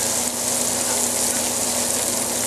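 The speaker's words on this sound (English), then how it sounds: "Next I'm going to add my cabbage. Kind of saute that around in there until it starts getting a little translucent." Shredded cabbage sautéing in a hot pan for fried cabbage, a loud, continuous dense sizzle with a steady hissing wash throughout, close up.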